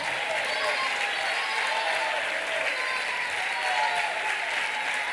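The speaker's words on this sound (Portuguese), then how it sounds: "Vamos todos ficar em pé e vamos aplaudir a Jesus com a nossa alma." A standing church congregation in Recife applauds, steady dense clapping sustained throughout without a break, with some voices mixed into the crowd noise.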